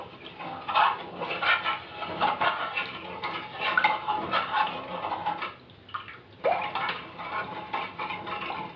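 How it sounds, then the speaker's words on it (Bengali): Jaggery being stirred into water in a pot for sweet yogurt, giving intermittent scraping and sloshing with light clinks of a utensil against the metal, close and fairly quiet, with a short pause midway. "গুড়ের সঙ্গে জলটাকে ভালো করে মিশিয়ে নিতে হবে।"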